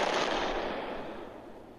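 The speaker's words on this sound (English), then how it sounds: "the bullets hit the tank, and there was quite the explosion" A propane tank explodes after being hit by gunfire, a loud broad roaring blast already under way that decays slowly over a couple of seconds, rumbling and hissing as it fades.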